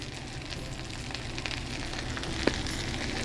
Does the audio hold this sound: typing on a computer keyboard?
no